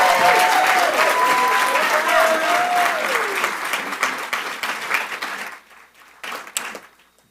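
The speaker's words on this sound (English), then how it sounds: "All right, let's give a round of applause." An audience at a pitch competition claps and cheers after a contestant, dense applause with some voices that thins out and fades into a few scattered claps near the end.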